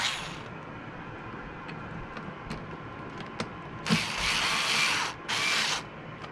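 A ratchet wrench with a 10 mm socket works on a BMW windshield washer reservoir, giving quick bursts of clicking ratcheting against a quiet background.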